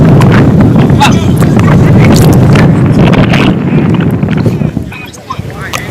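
Wind gusting across an outdoor baseball field at a Chicago summer series game, a steady loud rushing roar on the microphone that eases slightly near the end, with faint commentary underneath.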